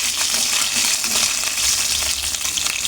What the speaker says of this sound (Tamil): இந்த ஆயிலே வந்து இந்த பூண்டு கருவேப்பிலை வந்து நல்லா பொரியணும்